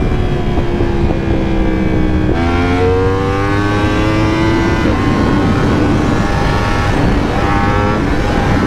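A Yamaha R1 sport motorcycle engine revs loudly and close, its pitch sweeping up and down in continuous rising and falling tones with some wind noise.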